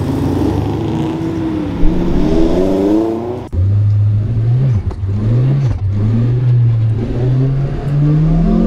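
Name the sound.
2ZZ-swapped Lotus MR2 Spyder race car engine warming up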